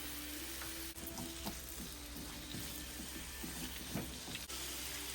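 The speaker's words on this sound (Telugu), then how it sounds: "టమాటా కాయలండి కట్ చేసి పెట్టుకున్నాం కదా, అవి వేసేసుకుందాం." Green tomato pieces and garlic frying in a pan give a steady close sizzle, with a few scraping stirs and light clinks throughout.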